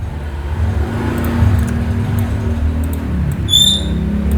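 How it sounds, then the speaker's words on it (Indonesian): Road traffic passes close to a roadside workshop, a continuous low rumble of engines that swells and fades, with a brief high squeak near the end and no talk. "Mohon maaf agak sedikit berisik ya, karena di sini lokasi workshopnya itu deket jalan."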